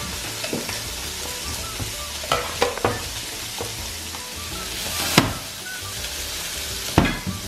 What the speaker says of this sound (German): hier braten wir die Zwiebeln, Karotten einmal kurz braten